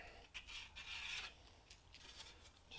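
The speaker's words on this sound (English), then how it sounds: "Just make sure all the edges we've filed the inside edges, but we're making sure that it's all deburred." A file rasps along sheet metal edges to deburr them, close and quiet, in a series of short scraping strokes with brief pauses between them.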